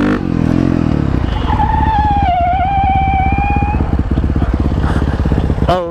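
A Beta 500 RS dirtbike fitted with an FMF PowerCore 4 exhaust revs hard up close, its loud, rapid-firing bark running steadily with a rising whine before a sharp squeal at the end.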